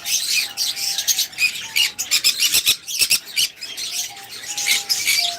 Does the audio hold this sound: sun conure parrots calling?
yes